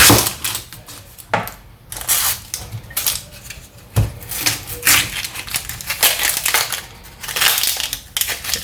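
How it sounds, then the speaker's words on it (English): An onion is chopped with a knife on a board while yam porridge is being prepared. Irregular crunching cuts and knocks come close up and fairly quiet, with no talking. "Now I'm gonna chop"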